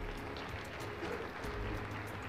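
Steady applause from the audience at a UNDP 50th anniversary ministerial meeting, soft and somewhat distant, running evenly through the short stretch with no voices on top.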